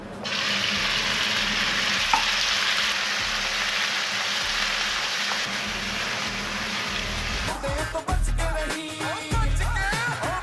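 Oil sizzles steadily in a pan on a stovetop as chicken curry gets underway, a dense continuous frying hiss for most of the clip before clattering utensil knocks break in near the end.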